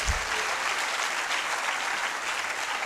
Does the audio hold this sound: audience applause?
yes